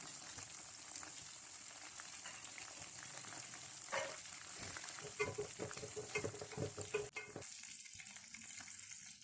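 Mirchi vada frying in hot oil gives a dense, constant sizzle and bubbling, with a few sharp clinks and scrapes from a utensil turning the fritters near the end.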